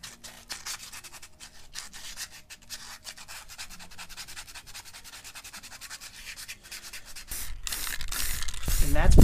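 Steady, continuous rubbing and scraping of sandpaper against a wooden candle holder, close and fairly loud, growing rougher and louder toward the end.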